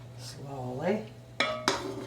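A ladle scoops pickling liquid into a glass jar for spicy sweet pickled cocktail franks; two sharp, ringing clinks of metal on glass stand out near the end after a softer stretch.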